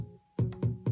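Chords from a Korg Electribe synthesizer in chord mode: a brief held note, then three punchy chord hits in quick succession, close and clean with no voices.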